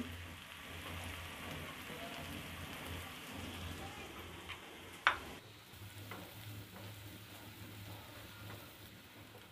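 Chopped carrots going into a pan where yardlong beans are already frying for Chinese vegetable fried rice, giving a steady close sizzle with a low hum beneath and one sharp clack partway through.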